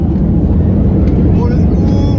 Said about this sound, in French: Ça y est, on décolle.